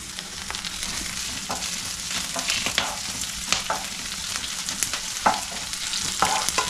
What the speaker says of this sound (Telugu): కరివేపాకు ఒక 2 నిమిషాలు ఇట్లా మంచిగా ఫ్రై కానివ్వాలి